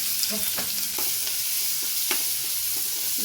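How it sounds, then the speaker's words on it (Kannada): Onions, curry leaves, cumin and chopped green chilies fry in a pan for a potato curry, giving a steady close sizzle broken by stirring scrapes. "ಚೆನ್ನಾಗಿ ಫ್ರೈ ಆಗಬೇಕು, ಹಸಿ ವಾಸನೆ ಎಲ್ಲ ಹೋಗಬೇಕು."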